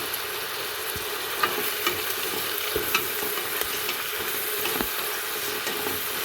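Spices such as fenugreek, asafoetida and fennel seeds sautéing in a pan for a gravy, a constant crackling sizzle with scattered stirring clicks and taps, no voices.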